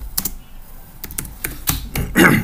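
A few loud, close keystrokes on a computer keyboard, irregular taps spread across a couple of seconds while renaming a Jamboard whiteboard, ending in a brief busier burst, with no talking.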